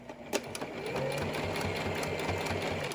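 A sewing machine stitches a cable-tie reinforced cloth face mask, a close, steady rhythmic whirring and thumping of the needle that runs continuously after a brief start.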